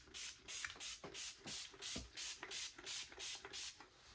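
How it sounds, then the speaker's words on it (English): Repeated short pump-spray bursts of disinfectant, such as alcohol, misted inside a ball python enclosure, about ten quick hissing squirts in a steady rhythm, close but quiet, with no voices. "all you really want to do is just sterilize your enclosure and spray it"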